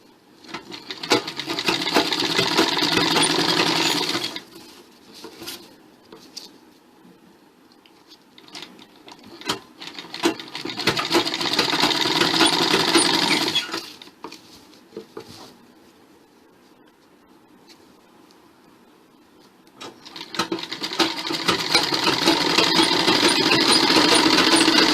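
An electric sewing machine stitches a belted salwar to a cloth strip in three long whirring bursts of about four seconds each, separated by quieter pauses with faint handling.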